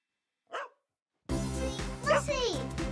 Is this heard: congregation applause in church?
no